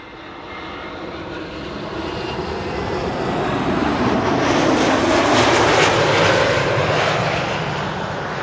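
An Embraer E195 E2 jet airliner arriving from Newcastle at Schiphol, runway Kaagbaan 06, roars steadily in a broad, continuous rumble that swells as it passes close by, then eases slightly, with no voices.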